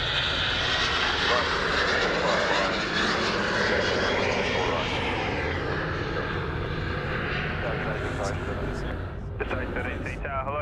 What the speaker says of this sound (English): Clear to takeoff.